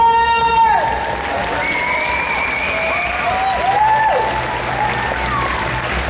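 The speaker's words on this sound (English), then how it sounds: "But now, I need a big, juicy round of applause for Mr. Jeff Maart!" Audience applause at a comic con Q&A session in Rotterdam Ahoy, loud sustained clapping and crowd noise filling the whole stretch, with music playing briefly at the start.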